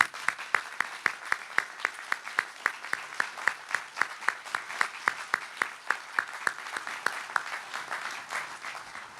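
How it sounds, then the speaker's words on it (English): An audience at a Tuscaloosa County civic tribute applauds a police officer with steady, evenly paced clapping that beats in a firm rhythm for several seconds. "tonight we give Officer Phillips a round of applause"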